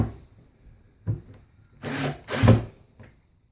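A screw is tightened into the back of a wooden painting frame, heard as a few short whirring bursts close by, separated by quiet pauses.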